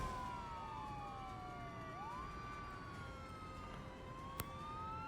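A police car siren wails in the Global Rescue video game, its sweeping tones rising and falling steadily over a constant engine-like background, with a brief sharp click near the end.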